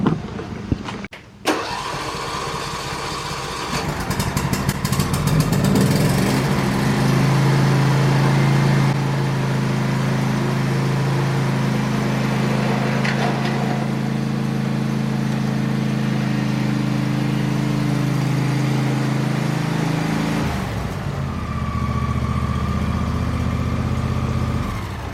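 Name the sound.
John Deere S130 lawn tractor engine running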